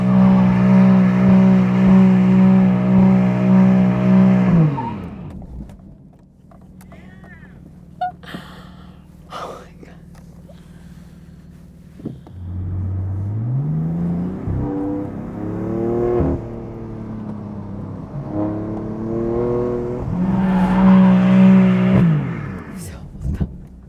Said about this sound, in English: I want to try donuts by myself.